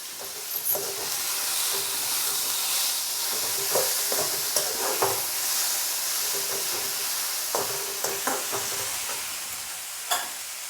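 Ginger garlic paste frying and stirred in a pan while making butter chicken, a steady close sizzle with intermittent scraping and stirring knocks, no talk.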